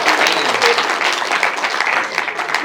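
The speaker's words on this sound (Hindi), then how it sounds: "तालियां बजा दो, थोड़ी सी मन लगाना है मुझे।" Audience at a Hindi poetry recital (kavi sammelan) clapping, with loud, dense, continuous applause from a crowd that stays steady throughout.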